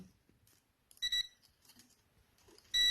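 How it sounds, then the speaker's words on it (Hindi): Buzzer of a digital meter used to test a refrigerator thermostat, giving two short steady beeps in a quiet room. "बजर ऑन हो रही है"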